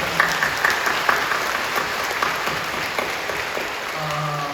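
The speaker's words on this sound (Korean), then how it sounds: "우리 격려하며 박수해 주시죠." A crowd claps steadily for several seconds, a dense, even patter of applause with no voices on top.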